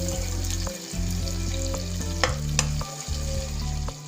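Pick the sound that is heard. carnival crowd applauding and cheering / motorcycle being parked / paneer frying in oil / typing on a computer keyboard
paneer frying in oil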